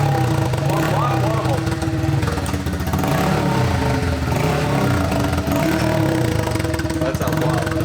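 Nissan 180SX engine running steadily up close at a fast idle with a few mild revs, a continuous loud drone mixed with people talking over it.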